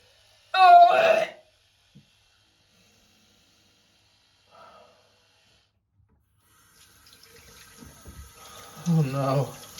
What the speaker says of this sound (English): And I will run a little bit of water on it